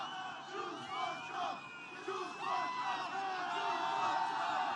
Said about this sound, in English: This is a nice, rowdy crowd,